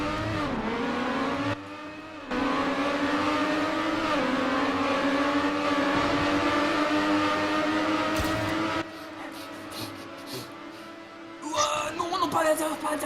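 Race car engine in the Trackmania game drones and whines steadily, then cuts out and returns with changing pitch as the car hits walls and loses speed, with people talking over it.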